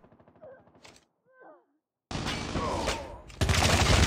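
Gunfire in the mobile shooter Call of Duty Mobile during a Hardpoint match. Brief speech comes first, then a loud sustained burst of automatic fire that swells into an even harsher volley at the end.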